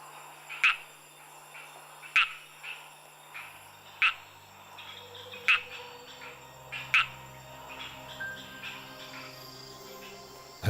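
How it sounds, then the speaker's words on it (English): Frogs calling at night in the Madagascar jungle: sharp, loud croaks repeat about every second and a half over a steady bed of insect chirring and low hum, with no talking. "the mating calls of some of Madagascar's 300 frog species fill the jungle"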